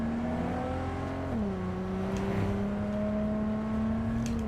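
Car engine in a video game, a steady humming drone that dips in pitch once as if shifting gear, then holds level, loud and continuous with no talk.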